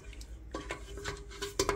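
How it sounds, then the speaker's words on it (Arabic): Knife cutting cooked harqma, tender cow's feet in Tunisian lablabi, inside a dish: a few light clinks and scrapes of metal against the plate, close and quiet, with soft background hum. "حطوهم في صحفة باش نقطعوهم بالسكينة، باش نقطعوهم طريفات صغار"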